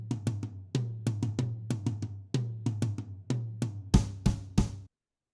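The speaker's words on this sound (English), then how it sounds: "it's the floor toms by themselves" Floor toms played alone as a drum part, a rhythmic run of resonant booming hits with ringing low decay, ending in a few sharper accented strikes before silence.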